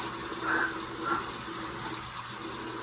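Tap water runs steadily into a sink while makeup is being rinsed off during a beauty try-on, a soft continuous gush with two slightly louder splashy swells and no talking.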